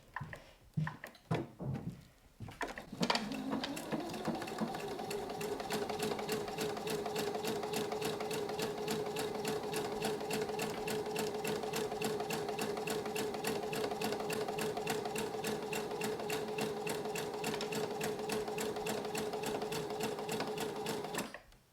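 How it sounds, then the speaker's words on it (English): A sewing machine runs a steady straight stitch along a quilted travel bag, one centimetre from the raw edge. After a few short starts it hums continuously and evenly at close range with no talk. "I've put the accessory tray back on, centimetre from the raw edge, and just a nice straight stitch"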